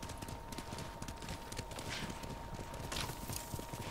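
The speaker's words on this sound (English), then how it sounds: "Let's get on my horse actually." Horse hooves walk in the Ghost of Tsushima video game, producing a steady clip-clop rhythm at close range that stays faint and low in level throughout, with no speech heard over it.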